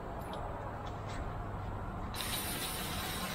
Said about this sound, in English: spray it all down.